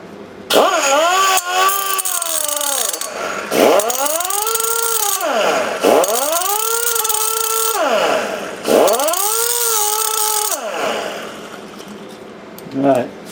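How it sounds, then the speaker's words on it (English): A diamond cutting wheel slicing through parts of a hydraulic floor jack, its loud whine repeatedly rising and falling in pitch across several cuts with brief gaps between them, close and continuous for most of the span. "let me get the diamond wheel out and see if we can cut some of this stuff up"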